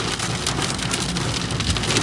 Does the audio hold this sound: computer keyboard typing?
no